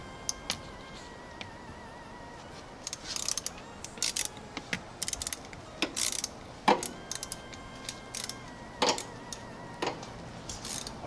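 A ratchet wrench works a 10 mm battery terminal nut on a 1999 Honda Civic coupe, giving short bursts of clicking ratchet strokes and metal taps up close over a low steady background hum.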